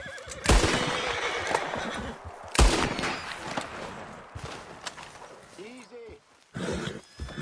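Gunshots at a rabbit in Red Dead Redemption 2, two loud sharp cracks a couple of seconds apart in an outdoor scene with horse whinnies and hoofbeats, and people talking.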